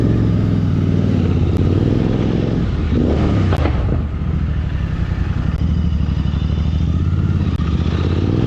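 A Royal Enfield Interceptor 650 motorcycle with a slip-on exhaust idles loudly nearby with a deep, throaty exhaust rumble, briefly revving and clattering before settling back to a steady idle.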